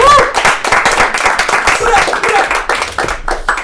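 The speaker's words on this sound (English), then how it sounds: "Give a round of applause for Raghu Adibhatla." Loud, close applause from an audience at a live comedy show, dense continuous clapping with cheers and voices mixed in throughout.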